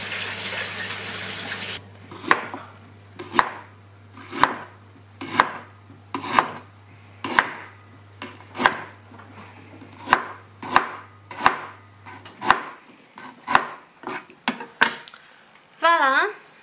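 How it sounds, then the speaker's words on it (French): A piece of ginger washed under a running kitchen tap, then chopped into pieces on a board: a brief rush of water followed by about a dozen sharp, close knife chops at an uneven pace. "on va prendre un morceau de gingembre et puis il faut le laver et couper en morceaux"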